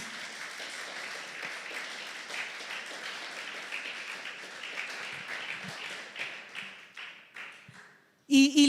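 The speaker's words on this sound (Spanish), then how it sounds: "dale ese aplauso" A church congregation applauds steadily at moderate volume for several seconds, the clapping thinning out toward the end before a short loud burst closes the clip.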